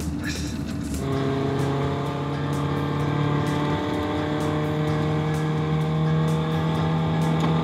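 A pink Datsun drives along a chip seal road with a steady engine hum and coarse tyre rumble. The car sound is close and continuous, with a short sharp noise at the start and regular faint ticks throughout.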